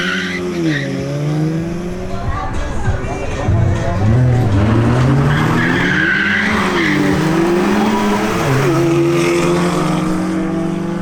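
An Audi S3 on a timed qualifying run, its engine revving up and down through the gears, loud and near, with tire noise and a commentator's voice over it.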